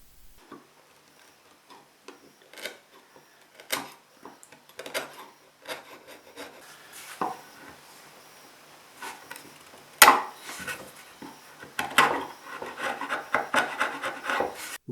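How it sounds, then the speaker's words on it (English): A chisel trims the protruding filler pins flush on a Blackguard Esquire guitar body under restoration, giving scattered close, dry rasping and scraping strokes that grow denser and louder toward the end. "And that's simply a case of just trimming them off with a chisel."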